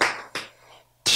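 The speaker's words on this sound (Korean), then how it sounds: "박수 쳐야지." A few sharp hand claps sound close by, two quick ones with a pause before a louder final clap.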